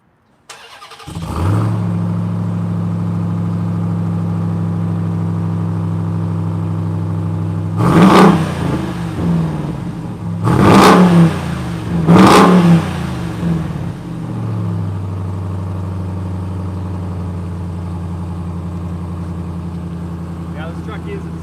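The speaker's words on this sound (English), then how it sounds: "Let's start it up. Rev it a couple times." A 2021 RAM 1500 TRX with 5-inch exhaust outlets starts, settles into a steady idle, then revs hard three times in short bursts before dropping back to idle.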